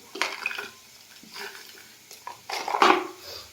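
Jaggery dropped into a kadhai brings a series of close scraping, clattering utensil-on-metal sounds in uneven bursts, the loudest near the end, with no one speaking.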